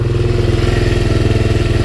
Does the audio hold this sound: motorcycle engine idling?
yes